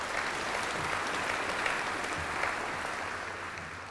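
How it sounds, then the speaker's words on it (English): Sustained audience applause at a college's 75th anniversary celebration, a dense steady wash of many hands clapping with no pauses, fairly loud and continuous throughout. "Give yourselves a warm round of applause"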